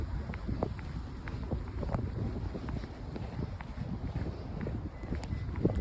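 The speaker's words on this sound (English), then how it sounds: "Of course it's windy." Wind gusting during a midnight snow storm at Niagara Falls, a low rumbling buffet against the microphone with scattered light knocks, fairly quiet but constant.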